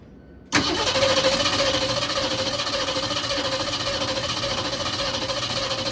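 A 1968 Ford Mustang, primed with plenty of starter fluid, fires abruptly after a short quiet moment and settles into a loud, steady, slightly uneven idle that carries on to the end.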